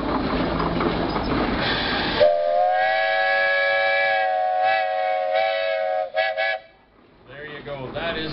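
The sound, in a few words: whistle of a 75 horsepower Case steam traction engine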